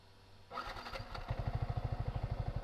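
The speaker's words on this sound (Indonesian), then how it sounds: "Loh, mesinnya tuh menggerung." A Yamaha R15 V3 motorcycle engine starts with a sudden burst, then settles into a loud, close, rhythmic pulsing putter at a quick steady beat.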